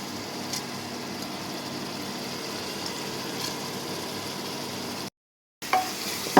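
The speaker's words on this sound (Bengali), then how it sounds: "ডালটা দিয়ে একটু হালকা কষাই নিই" Masoor dal sautés in a pan with a faint, even sizzle, broken by a brief gap of silence near the end before a few louder clatters.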